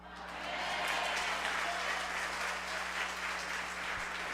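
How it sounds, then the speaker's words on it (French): Sustained audience applause at a recital, a dense steady wash of clapping that holds loud and even throughout with voices murmuring faintly beneath it. "Applaudissez, mes amis,"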